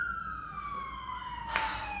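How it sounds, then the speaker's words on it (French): Police or emergency siren wailing on a US city street, a single steady descending tone with a brief louder burst near the end, heard at moderate distance over low traffic rumble. "toujours des sirènes"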